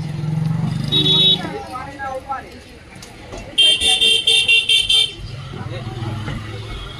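Roadside traffic near a bus on the way to the Sundarbans, with a string of rapid, loud horn toots at the midpoint, a shorter honk earlier and engine rumble underneath, while people talk nearby.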